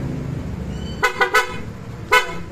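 A motorcycle horn gives three quick beeps, then a single longer toot, sounding close over a low idling engine.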